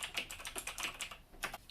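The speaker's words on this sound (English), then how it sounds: "So we're typing inspirational quotes." Rapid typing on a computer keyboard while searching for inspirational quotes, a close, steady run of crisp key clicks with a short pause before a final burst.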